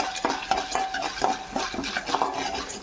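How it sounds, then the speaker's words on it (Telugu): Curry leaves and chili powder being fried until golden, heard as a spatula scraping and tapping in rhythmic strokes against the pan over a faint sizzle. "మంచి కలర్ వచ్చేదాకా మనం ఫ్రై చేసుకుందాం."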